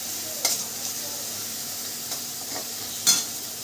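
Garlic and green chilies fry in hot oil with a steady, quiet sizzle, broken by a few sharp clicks of a utensil scraping the pan.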